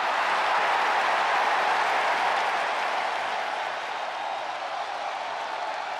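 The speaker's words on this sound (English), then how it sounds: "Listen to this ovation." A WWE 2K24 video game arena crowd gives a sustained ovation at a SummerSlam match, a dense wash of applause and cheering that stays loud and then eases slightly toward the end.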